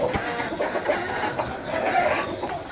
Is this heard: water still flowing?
no